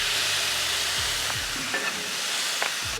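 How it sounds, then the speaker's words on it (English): Smashburgers sizzle on a hot Ninja FlexFlame griddle in a steady, close hiss, with a few faint scrapes and clicks over the continuous frying. "Those burgers are cooking up fast."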